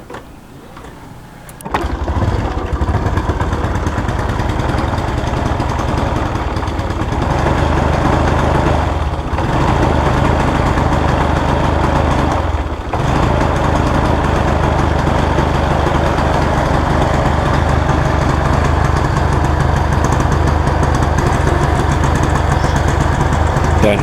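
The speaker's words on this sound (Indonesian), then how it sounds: "motornya di gas sampai full pun hanya segitu saja. Hanya bisa ngeden tapi nggak bisa naik gas lagi." A smoking Honda Revo Fit motorcycle starts and its engine is held at full throttle yet only strains, a loud steady buzzing drone that barely rises, dipping briefly a couple of times, close to the microphone.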